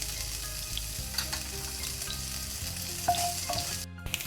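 Chopped green chilli, grated ginger and ajwain fry in a small amount of oil in a pan, a quiet continuous sizzle with a few light stirring taps.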